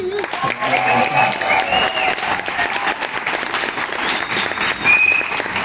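An audience at a leaving-speech event applauds the people who helped create the space, a dense, sustained round of clapping with some voices and tonal sounds mixed in underneath.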